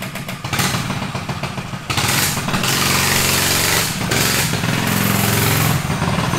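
A Rascal Lite mini bike's small engine fires up after a sputtering start and then runs steadily, loud and close, with a raspy, rattling idle and no speech.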